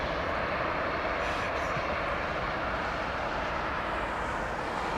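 Airbus A220 at Heathrow Airport, a steady, loud broadband engine roar that holds constant throughout with no talking, as from a nearby jet.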